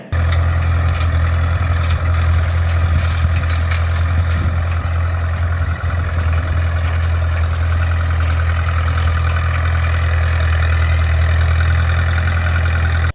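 A Mahindra tractor engine runs steadily through the whole stretch, a loud, close, constant low diesel drone with no talk over it.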